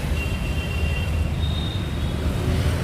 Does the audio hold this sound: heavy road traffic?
yes